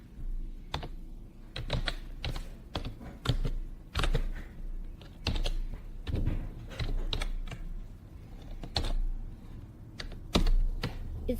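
Keys clatter on a computer keyboard as a MaxScript script for 3ds Max is typed, with irregular bursts of crisp close clicks and short pauses between them, continuing steadily with no talking.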